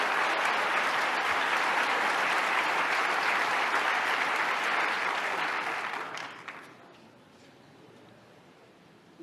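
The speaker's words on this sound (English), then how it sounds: "And let's give them a round of applause." An audience at a State of the State address claps loudly and steadily in a big hall. The applause tapers off and fades to near quiet over the last few seconds.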